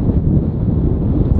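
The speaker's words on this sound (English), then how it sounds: "It's too windy though" Gale-force wind buffeting the microphone, a loud continuous low roar and rumble with no voices, dirt blowing through the air.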